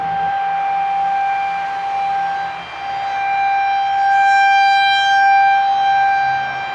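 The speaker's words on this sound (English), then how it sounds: "The sirens finally stopped." A civil defense siren wails outdoors in a steady, sustained tone that holds for several seconds and swells slightly in loudness, heard from a backyard garden with no one talking.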